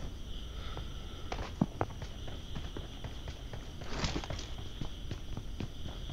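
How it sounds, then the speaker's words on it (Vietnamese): Footsteps in the PUBG Mobile battle royale shooter game patter softly and rhythmically at a moderate distance over a quiet ambient background, with a few sharper clicks mixed in. "À mình nghe tiếng chân trước mặt này,"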